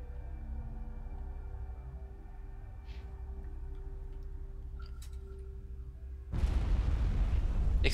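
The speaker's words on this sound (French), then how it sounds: "Explosion du labo." In the PC game Mass Effect, after several seconds of quiet humming and faint clicks, a lab explosion bursts in loudly and keeps roaring as a heavy, rumbling blast.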